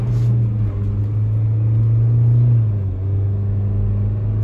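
A Ford Ranger Stormtrak pickup accelerating on an open road, its engine rumbling low and steady with a rising drone and a brief dip as it shifts gear, heard from inside the cab.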